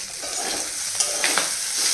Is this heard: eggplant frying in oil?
yes